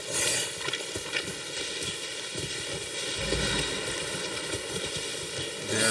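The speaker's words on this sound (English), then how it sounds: "They are wild horses, I think." Steady clip-clop of wild horses' hooves at a trot in the video game Far Cry 6, continuous and fairly close, over a busy bed of game ambience with low thuds.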